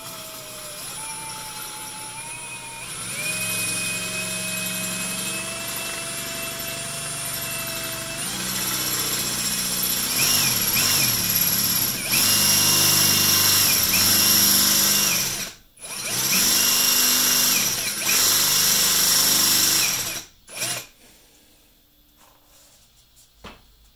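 A CNC machine drills holes, its spindle whining at shifting pitches with a steady mechanical drone, cutting in sustained passes broken by two short pauses before it winds down near the end.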